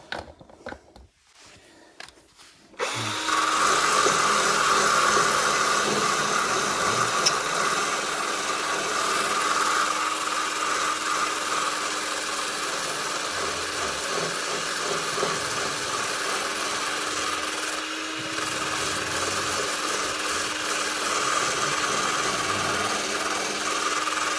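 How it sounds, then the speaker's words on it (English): After a brief quiet start, a power drill with a sanding attachment whirs steadily and loudly on rusted metal of a Mazda MX-5 NC Miata, its grinding hum continuing nearly unbroken. "rubbing that down with my drill attachment"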